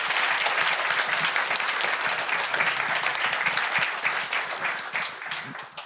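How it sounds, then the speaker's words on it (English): An audience at a Women in Tech male allies event applauds panelists, dense steady clapping that holds for several seconds before thinning out. "let's give a round of applause for our panelists who have shared their experience"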